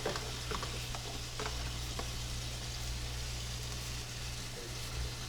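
Onion cooks in a pan with a soft, steady sizzle and a low hum under it. A few faint clicks and knocks come through, and no one talks.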